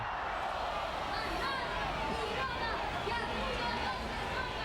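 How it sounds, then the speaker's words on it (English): Crowd of uniformed children shouting memorized lines in unison at a political rally in Cuba, a dense, continuous wall of massed voices that stays loud and steady throughout. "Uniformed children are lined up to shout memorized lines to work the crowd into a dogmatic frenzy."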